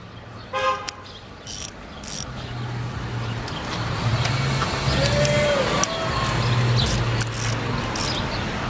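A ratchet loosens a 12 millimeter bolt on a 2006 Scion xA during alternator and power steering belt replacement. A few short bursts of clicking come early, then a steady mechanical hum with faint scattered ticks.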